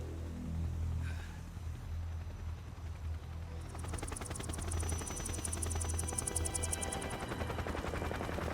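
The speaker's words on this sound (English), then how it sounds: "That's a lot of helicopters flying very closely together." Several helicopters fly close together in the Metal Gear Solid 3 video game, producing a loud, rapid rotor chop that builds midway and pulses continuously over a low hum, with no talking.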